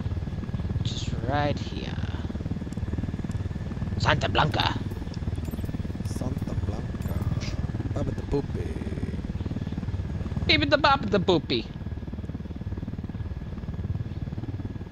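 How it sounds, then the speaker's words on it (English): Helicopter in the video game Ghost Recon Wildlands, its rotor and engine giving a steady, loud droning whir that runs throughout beneath people talking. "I'll hop in the helicopter with you."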